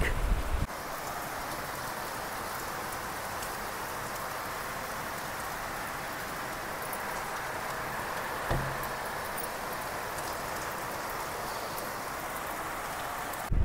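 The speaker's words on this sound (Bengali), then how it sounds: "কি জোরে বৃষ্টি নেমেছে, ভেসে গেল চারিদিক।" Heavy rain pours down in a dense, unbroken roar, with a single brief knock partway through and no voices.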